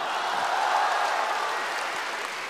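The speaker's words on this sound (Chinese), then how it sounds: "掌声送给社会人" An audience at a crosstalk comedy show breaks into a burst of steady, dense applause that fades slightly toward the end, with no voices over it.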